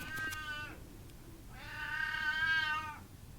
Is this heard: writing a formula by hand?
no